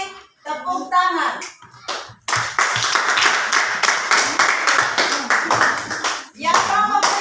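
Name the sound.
group clapping hands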